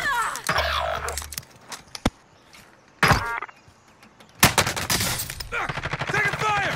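Gunfire in Warzone: scattered sharp cracks, then a loud single shot and a long rattling automatic burst near the end, with a voice talking between the shots.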